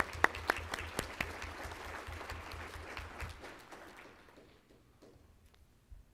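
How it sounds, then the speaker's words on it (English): At a school board of education meeting, a room applauds educators; scattered claps over a steady patter that fades out toward the end, fairly distant and quiet. "So I think they deserve a round of applause as well."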